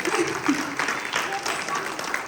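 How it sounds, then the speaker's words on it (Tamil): An audience at a Tamil New Year skit performance applauds its director, a full patter of clapping from many people, with a voice speaking over it. "அவங்களுக்கு பெரிய கைத்தட்டல்களை கொடுக்குமாறு கேட்டுக்கொள்கிறேன்"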